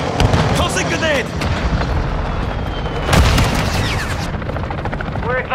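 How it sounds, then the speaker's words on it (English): A stun grenade goes off in Call of Duty: Modern Warfare II amid chaotic combat: a single sharp, loud bang near the middle over a constant roar of gunfire and helicopter rotor noise. "Stun grenade out! Tossing grenade!"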